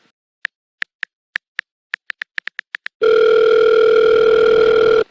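Telephone keypad tones tap out a number in a quick irregular series, followed by a loud, steady ringback tone held for about two seconds before the call is picked up.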